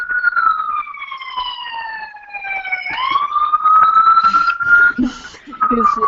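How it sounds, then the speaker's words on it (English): A wailing siren passing outside a window sweeps down and then rises again, fairly close and loud, with traffic noise and some background voices underneath. "Who's the siren?"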